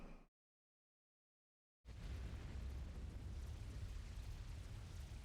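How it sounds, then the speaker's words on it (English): Explosions in the video game Megaton Musashi W: Wired, a dense, continuous rumble of blasts after a brief cut to silence, loud and steady with no talking. "That's a lot of explosions."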